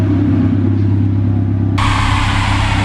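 An eBay turbo kit on a Honda Civic 1.5 engine revs hard and loud, a strong steady drone that suddenly turns harsher and brighter partway through as the revs climb, heard up close with no voices.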